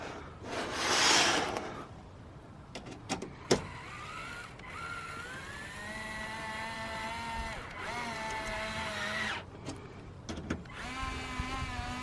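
An impact gun set to its lowest torque drives a star-bit bolt while a catalytic converter shield is fitted to a Toyota RAV4 Prime. A short burst is followed by repeated whirring runs of the motor that rise and fall, close up with no talking.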